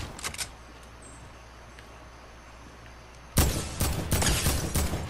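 Quiet stretch with a couple of faint sharp cracks, then a burst of loud rapid shots in quick succession, close and punchy gunfire in the video game Fortnite.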